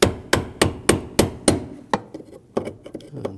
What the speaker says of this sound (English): Otherwise, just use the brass punch.